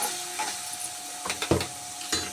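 Salted pasta is stirred in a pan on the stove, with a few short, close scraping and clattering strokes and a light sizzle in between.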